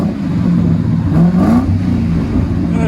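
Mercury Grand Marquis 4.6L V8 exhaust with aftermarket mufflers revving loud and close, the pitch climbing and falling through a couple of blips over a steady rumble.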